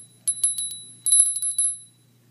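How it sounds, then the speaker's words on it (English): A small red Christmas bell jingles in two quick bursts of bright, high metallic tinkling, close and clear in a quiet room with no voices. "And then I have this little red bell."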